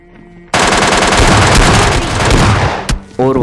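Rapid automatic gunfire from the PUBG Lite video game bursts in loud and close, a dense sustained volley that cuts briefly near the end before resuming.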